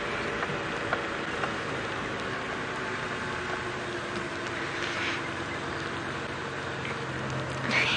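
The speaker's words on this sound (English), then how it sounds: "The rain is good." Rain falls steadily during an early-morning safari drive, a constant hiss of drops on surfaces with occasional small taps, moderately close and without talk.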